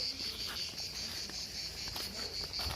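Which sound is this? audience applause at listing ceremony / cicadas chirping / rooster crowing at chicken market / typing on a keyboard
cicadas chirping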